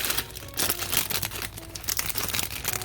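Scissors cut open a plastic bag in a home kitchen, with a continuous, close crinkling and rustling of plastic over a few seconds.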